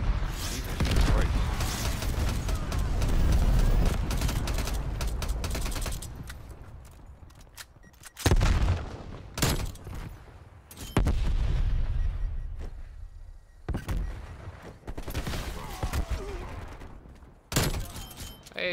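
Cruise missile strike explosions in Call of Duty Black Ops Cold War arrive as a run of loud booming blasts and crackling gunfire bursts, separated by short quieter gaps, with no speech.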